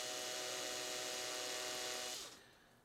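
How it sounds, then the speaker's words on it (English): A steady electric drill twisting wires together whirs close by with a constant hum, then winds down and stops near the end. "And how I do that is with a drill."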